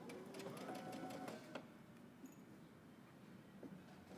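A home sewing machine runs a short burst of stitching on a dress with built-in power mesh, a fast mechanical whir that stops after about a second and a half, leaving quiet room sound and a few faint clicks.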